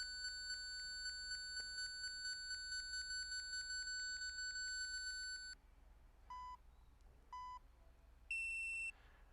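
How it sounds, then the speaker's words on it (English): A Capto EZ device beeps in a rapid steady stream of high tones while out of order, then stops, followed by a few separate short beeps after pauses. "it's beeping saying it's out of order"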